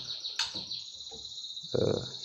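A magpie robin (murai batu) in moult gives a few soft chirps and a short warbled call close by, over a faint steady high-pitched hum.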